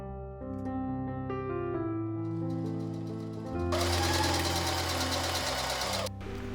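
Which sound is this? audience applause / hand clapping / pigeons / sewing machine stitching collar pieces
sewing machine stitching collar pieces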